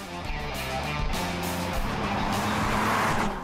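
An Audi SQ5 drives by with a strong engine note that builds steadily and stays loud and near across a few seconds, with no talk over it.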